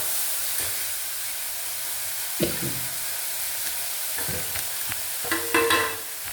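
Food sautés in a pan on a home stove, with a steady low sizzle and several short bursts of scraping and stirring, close and alone with no voices.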